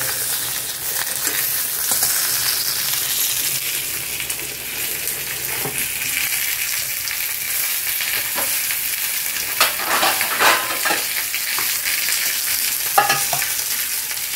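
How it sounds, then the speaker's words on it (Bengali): Vegetables fry in a pan in the small amount of oil left over after cooking fish, giving a steady, loud, close sizzle with occasional stirring scrapes and crackles throughout, no voices. "মাছটা তুলে নিয়েছি, কোনো এক্সট্রা তেল অ্যাড করিনি, দেখো ওইটুকু তেলই বেঁচেছে, ওইটাতেই সবজি দিয়ে দিলাম"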